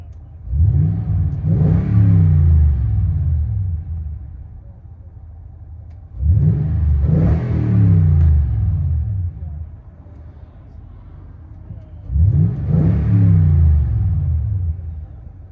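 A deep 5.7L V8 exhaust on a 2020 Toyota Tundra with a Dirty Deeds exhaust system revs three times from inside the cab, each burst rumbling loudly before dropping back to a low idle.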